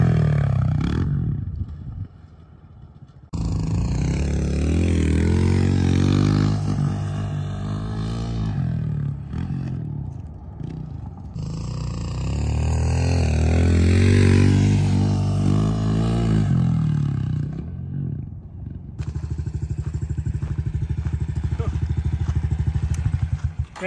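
A motorcycle engine roars hard in second gear on a neighborhood street, loud and close and rising in pitch through several long pulls, with a brief drop between them.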